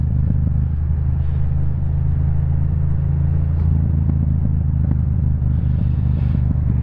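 A Yamaha MT-07 motorcycle with an Akrapovic exhaust rides along, a loud, steady low engine rumble with wind noise and a slight rise in revs.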